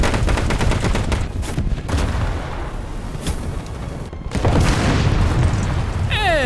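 A tank explodes in the War Thunder battle game, with heavy booms and bursts of gunfire over constant rumbling combat noise, and a loud surge of blasts partway through.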